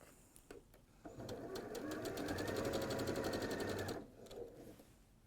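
A sewing machine stitches the armhole hem of a dress in a steady rapid run of about three seconds, starting and stopping cleanly, close and fairly loud with short pauses on either side.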